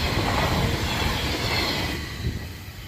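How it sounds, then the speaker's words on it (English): A small train rolls steadily past close by in the European countryside, its continuous rumble and wheel noise filling the air, with a faint squeal of wheels and clatter on the rails. "I've got a little train coming."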